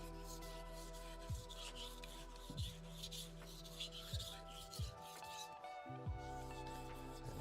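A knife on the last stage of sharpening and polishing, soft repeated rubbing strokes in a steady rhythm, each a smooth rasp against a faint constant background hum, close and quiet.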